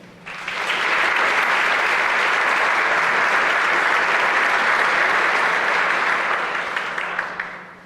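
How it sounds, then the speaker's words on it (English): A room full of people breaks into sustained applause, dense and loud for several seconds before tapering off. "How about a round of applause?"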